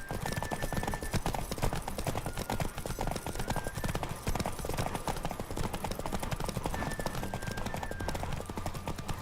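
Rapid galloping horse hooves pound continuously over a dense, noisy soundscape from the video game The Witcher 3: Wild Hunt during a horse race, with a faint high tone now and then.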